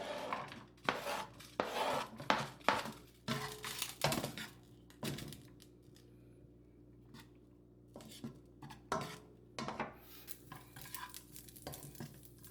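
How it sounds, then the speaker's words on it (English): Sausages stir-frying in a pan without added oil, with irregular scraping and clinking of a utensil against the pan in clustered bursts and quieter gaps of faint sizzling, close by, no talking. "So we're gonna stir fry them up a little bit, kind of cook a little bit."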